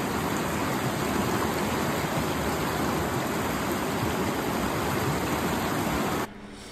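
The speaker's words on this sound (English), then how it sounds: "The video is of the San Miguel River." The San Miguel River near Ridgway rushes in a steady, dense broadband roar of flowing water, close and continuous, cutting off abruptly near the end.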